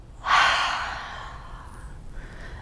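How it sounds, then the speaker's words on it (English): A single open-mouth exhale during postpartum yoga breathing, a loud breathy whoosh close to the mic that fades slowly over about two seconds. "Open mouth, exhale as the hands come to heart."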